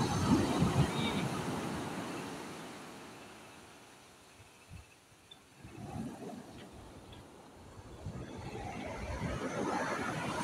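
Sea waves washing onto the shore at General Nakar, Quezon, a broad rushing roar that swells, fades to a lull, then builds again, heard from nearby.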